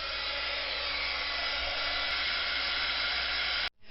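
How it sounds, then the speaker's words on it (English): A heat tool blows steadily and loudly while drying black ink smooshed over white paper for a card, a constant whooshing hum that stops abruptly near the end. "I think I'm going to try and heat dry that a little bit."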